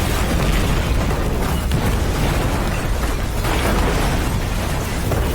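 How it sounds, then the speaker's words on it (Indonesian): An old car explodes in an action film scene, a loud, sustained roaring blast that fills the whole stretch with dense, even rumble and no gaps or voices. "mobil tua itu meledak"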